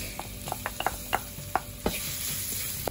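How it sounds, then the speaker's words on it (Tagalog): Minced garlic sautés in oil colored with annatto powder for seafood palabok, a steady close sizzle punctuated by sharp taps and scrapes of a spatula against the pan. "So, saute na rin natin yung ating minced garlic."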